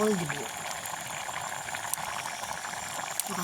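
Jackfruit seeds boiling in a covered pot over a village fire, a steady soft bubbling and hiss running throughout, with a brief low voice at the very start.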